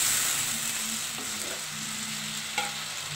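Hot water hits a frying pointed gourd curry in a pan, producing a constant close sizzle and bubbling with occasional spoon scrapes and a sharp tap, and no talking.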